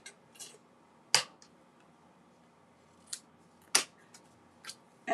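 Scissors or a paper trimmer slicing card stock for a three-arch tri-fold card, giving a few sharp, crisp snips spaced irregularly, close and fairly quiet against a silent room.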